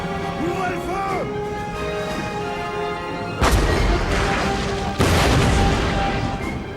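Cannon artillery fire in the Napoleonic-era strategy game Total War: Napoleon, with two loud booms cracking out after a French-speaking voice, each followed by a rolling, decaying roar.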